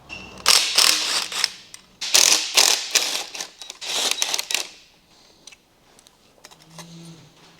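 A ratchet spins off 10 mm bolts from the brackets of a motor's inlet pipe, with several bursts of rapid clicking, some short, some drawn out, close and crisp, tapering off into faint handling noises.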